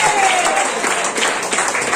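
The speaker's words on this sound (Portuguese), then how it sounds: "Pode bater palmas para Jesus," A church congregation applauds in a dense, continuous wash of many hands clapping, with voices mixed in throughout.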